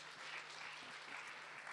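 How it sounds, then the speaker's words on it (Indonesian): Faint, steady applause from a church congregation at a Sunday service in Bandung, a brief, dense wash of clapping with no voices over it. "tepuk tangan dong mereka"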